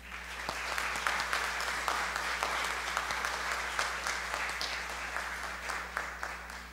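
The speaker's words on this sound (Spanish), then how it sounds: "Vamos a recibirlo con un aplauso" An audience at a community service day event gives a guest a sustained welcoming round of applause, steady and fairly distant, with little talk.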